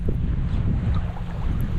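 Steady wind buffeting the microphone at a lake shore, a constant low rumble and roar with no pauses, close and loud.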